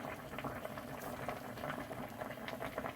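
Mackerel braising in water seasoned with chili powder and salt, bubbling at a lively simmer with a steady stream of small pops and gurgles, close by and alone.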